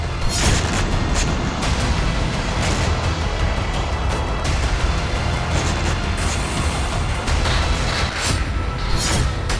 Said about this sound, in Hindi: रात में हुए मिसाइल धमाके से पूरा इलाका दहल उठा।